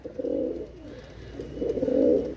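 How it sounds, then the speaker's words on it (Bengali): A pair of Pakistani pigeons coo close by, two low throaty bursts of cooing separated by a short pause. "কবুতর পেয়ারটা দেখেন ভাই"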